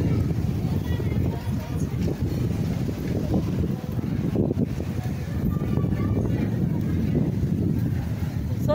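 Wind blows steadily across Limassol beach in Cyprus on a cold day, a constant low roar and buffeting against the microphone, with a voice speaking over it.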